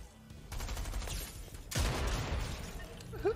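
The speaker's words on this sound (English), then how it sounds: "I just killed two guys with one pump shot" A pump shotgun fires in Fortnite: one sharp, loud blast with a short noisy tail, set among other busy game gunfire and mechanical clatter.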